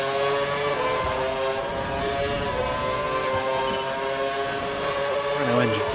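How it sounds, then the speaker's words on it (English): Formula 1 cars in the F1 2012 racing game at the Canadian circuit, Renault and Cosworth engines droning at high revs, a steady sustained whine with shifting pitch under occasional talk. "Renault engine so much better than our little Cosworth."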